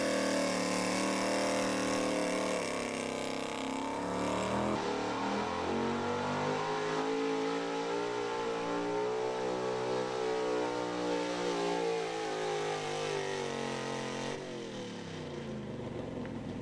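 A 1977 Ford pulling truck roars down a dirt track, its engine revving hard and loud in a long continuous drone whose pitch climbs and wavers before the noise drops off near the end.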